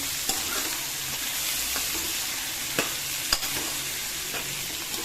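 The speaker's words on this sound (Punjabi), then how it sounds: "ਵਿੱਚ ਪਾਤੀਆਂ ਆਪਾਂ ਹਰੀਆਂ ਮਿਰਚਾਂ ਬਸ ਇਹਨਾਂ ਨੂੰ ਆਪਾਂ ਬਾਲੇ ਬ੍ਰਾਊਨ ਨਹੀਂ ਕਰਨਾ ਹਲਕਾ ਹੀ ਭੁੰਨਣਾ ਹੈ" Green chillies fry lightly in a pan with a constant hissing sizzle and a few sharp utensil taps, close and steady throughout.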